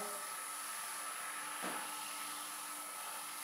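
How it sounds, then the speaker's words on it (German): Continuous motorized whir of a wood lathe spinning a bowl for sanding and polishing, with a steady high whine and broadband hiss, briefly dipping once midway, near and fairly constant. "Jetzt kann ich die Maschine starten und mit dem Schleifen beginnen."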